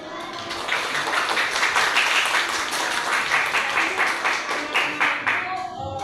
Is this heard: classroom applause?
yes